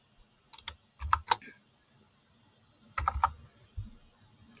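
Bursts of computer keyboard typing come in quick clusters of keystrokes with short pauses between them, close and clear while someone writes Web API code for a Dataverse table.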